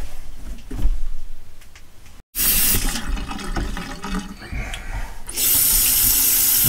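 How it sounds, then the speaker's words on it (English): Tap water gushes into a sink after the supply is turned back on in an apartment, with a brief cutoff and then a loud steady rush that surges louder near the end. "Let's turn the water back on."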